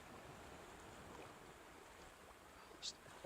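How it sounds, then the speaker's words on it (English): In the Rainbow Fish underwater game, a soft, steady ocean wash keeps up a low, constant murmur, with a faint brief chime near the end. "Just the ocean sound."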